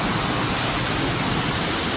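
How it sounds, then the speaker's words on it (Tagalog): A waterfall roars near a tunnel in Montalban, Rizal, as a dense, steady rushing of water that fills the whole clip, loud and close with no let-up. "Ang ingay ng falls."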